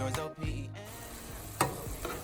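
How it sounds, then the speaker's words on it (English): Cooked macaroni is stirred together with butter, milk and cheese in a pan. A few close, scraping stirring strokes sound over a soft background hiss. "Now I'm going to sprinkle on this cheese and stir it all together to make the macaroni"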